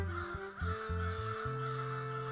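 Cartoon crows cawing in an animated story, a run of loud harsh caws in quick succession with a steady, fairly close tone and no speech over it.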